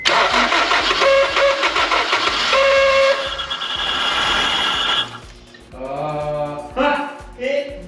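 A flooded, long-abandoned Honda S2000 cranks loudly and nearly catches, the starter churning with rising whine before sputtering out, followed by a few shorter cranking bursts and faint tones.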